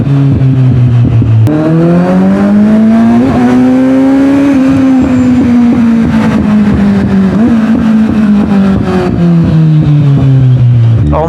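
A vehicle engine accelerates hard between two walls, loud and close, its droning pitch climbing steadily and holding without a break.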